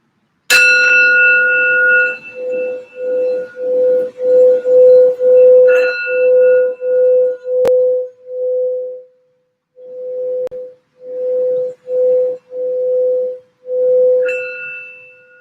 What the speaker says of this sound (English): I'm just going to do a quick sound bell for some grounding and healing for the reading